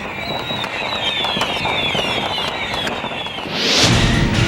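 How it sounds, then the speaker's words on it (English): Yanshui beehive rocket fireworks go off at the Lantern Festival in Taiwan, a dense continuous hail of whistling rockets and crackling bursts near and loud, swelling into a heavier blast toward the end. "the town's beehive rocket celebrations would one day become one of the most famous festivals in the whole of Taiwan."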